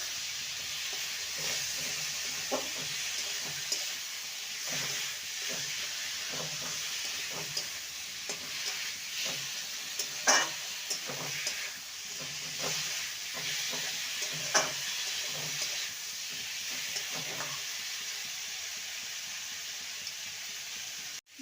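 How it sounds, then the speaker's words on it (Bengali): Fried potatoes and drumstick pieces stirred into oil-released spice paste in a pan for a Bengali vegetable curry, sizzling steadily close up, with repeated scraping stir strokes throughout. "এবার ভেজে রাখা আলু আর সজনে ডাঁটা দিয়ে দেবো ভালো মতো কষিয়ে নেবো"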